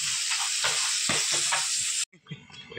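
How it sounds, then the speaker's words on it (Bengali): Fish frying in a hot wok gives a loud, steady sizzle for about two seconds, then drops to quieter crackles and faint kitchen sounds. "কড়াই গরম হয়ে গেছে, এই যে মাছ ভাজা বসিয়ে দিয়েছি"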